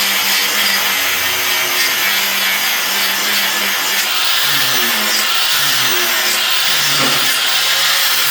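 A 4-1/2 inch hand grinder grinding a bevel on 1/4 inch thick, 2 inch steel box tube at a table corner: a loud, continuous close-up abrasive whine and hiss with slight shifts in pitch as pressure changes.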